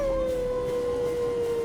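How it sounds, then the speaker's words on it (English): In the Elden Ring video game, a single long wolf howl holds one steady, slightly falling tone, clear and prominent over faint ambient background. "Next time you hear the wolves howl"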